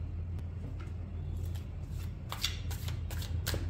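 Tarot cards shuffled by hand during a reading, with close, crisp riffling bursts that grow busier and louder toward the end over a low background hum.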